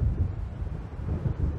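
Deep thunder rumbles steadily from an approaching storm in the Alan Wake video game, a continuous low roll with no voices over it.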